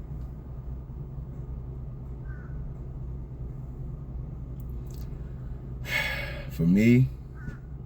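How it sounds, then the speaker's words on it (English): Crows cawing outdoors: a couple of harsh caws near the end, moderately close, over a low steady background rumble, with a person speaking briefly around them. "crows."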